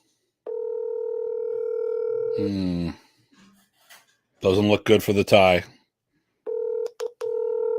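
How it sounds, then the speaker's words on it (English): Steady telephone dial tone on a phone call, loud and close, gives way to a person talking, then returns with short dialing beeps breaking the tone near the end. "That's the phone. I'm actually dialing them."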